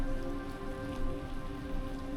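Steady rain pours down on a city neighborhood in China, a dense, continuous hiss of drops striking surfaces close by, unbroken and even throughout, with no voices.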